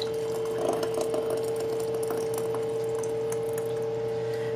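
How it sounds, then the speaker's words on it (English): Homemade copycat Sweet Baby Ray's BBQ sauce pours steadily into washed canning jars, a soft continuous liquid flow over a constant low hum, with no voices. "So now all we do is we pour it into our jars that are washed and cleaned."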